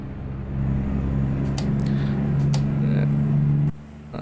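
A heavy truck engine in American Truck Simulator idles in a steady low rumble, with brief hissing bursts of compressed air from the air brakes before the engine drone cuts off near the end.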